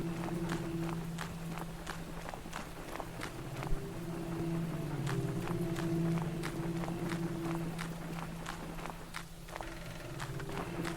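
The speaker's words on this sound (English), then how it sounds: "It almost makes it look like I'm walking because of all the footstep sounds, but that just sounds my character does." Rapid, regular footsteps of a player character in the block-building video game Lucid Blocks, a quick patter of soft thuds over a steady droning background tone and ambient hum, moderately quiet with no talking.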